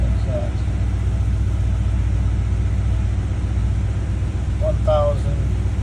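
A 1971 Mercedes 300SEL 6.3 sits idling high through its cold-start warm-up, a steady low rumble that carries on throughout, with a brief voice speaking near the end.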